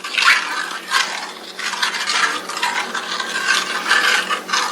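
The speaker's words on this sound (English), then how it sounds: "and now the only thing to do right now is to stir this right here. Just stir this." Homemade gravy being stirred in a pot over a low simmer produces close, rhythmic swishing and scraping strokes, repeated steadily with no voices.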